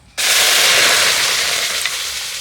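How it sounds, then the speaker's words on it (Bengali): Raw mango paste for a sweet dish drops into a hot, empty wok and erupts into a sudden loud, steady sizzle that continues close up without a break. "পেস্টটা এখন আমি কড়াইয়ের মধ্যে দিয়ে দিচ্ছি"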